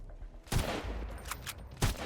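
Bursts of gunfire in the survival shooter Sunkenland, with two sharp, loud volleys about a second and a half apart and a rough, crackling din of shots and game noise filling the gap between them.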